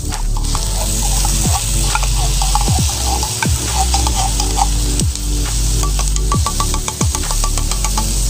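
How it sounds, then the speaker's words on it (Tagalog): Corned beef stirred and frying in a pan with vegetables, a steady close sizzle broken by repeated scraping strokes of a utensil against the pan. "Mix natin yung corned beef."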